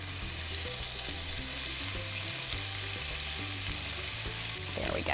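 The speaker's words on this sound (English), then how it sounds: "You will be amazed at what that little bit of sugar will do for caramelizing your onions." Onions caramelizing with sugar and olive oil sizzle steadily in a hot pan, a dense, continuous frying hiss that stays loud and even throughout, with no voices.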